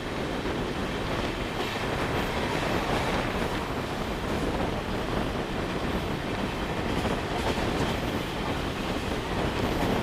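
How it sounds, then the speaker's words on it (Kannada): A passenger train running through Kyatsandra railway station without stopping, heard as a steady, loud rumble of wheels on rails from on board, continuous for the whole stretch with no talk. "ಫ್ರೆಂಡ್ಸ್, ನಮ್ಮ ಟ್ರೈನ್ ಈಗ ಕ್ಯಾತ್ಸಂದ್ರ ರೈಲ್ವೆ ಸ್ಟೇಷನ್ನ ಸ್ಕಿಪ್ ಮಾಡ್ತಿದೆ."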